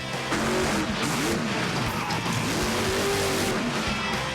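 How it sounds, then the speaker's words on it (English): Monster truck engines roaring at a Pro MT Tour speedway race, a loud continuous engine drone with rising and falling revs and tire noise and no talking. "Monster trucks have a unique sound all their own."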